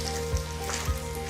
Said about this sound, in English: Once the cumin seeds are roasted nicely, add the khichdi. Keep the flame on medium low while adding the khichdi.